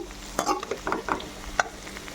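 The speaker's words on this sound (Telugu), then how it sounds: "ఇలాగే నీట్గా బాగా ఫ్రై చేసుకోవాలి." Okra (bendakaya) frying in a pan while being stirred, a low steady sizzle broken by several scraping stir strokes and light clinks of the spatula against the pan, close up and with no talk.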